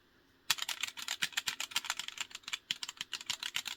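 Rapid typing clatters on a mechanical keyboard fitted with silver Kailh switches and etched keycaps, built as a ZX Spectrum Next clone, with crisp close keystrokes in quick irregular bursts after a brief quiet start.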